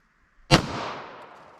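A single sharp report from a 9mm pistol with a 5-inch barrel firing Buffalo Bore 147-grain hard cast rounds, loud and close, with a short decaying echo after the shot.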